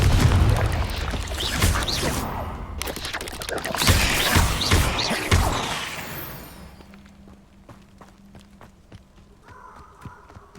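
Confringo explosion spell cast in the video game Hogwarts Legacy: loud, dense bursts and rumbling booms over the first six seconds, thinning into quieter scattered ticks and faint background noise.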